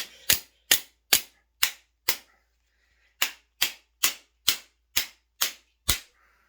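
A Taurus GX4 pistol is struck hard again and again, giving sharp, loud, cracking knocks: five evenly spaced blows, a short pause, then seven more at a steady rhythm.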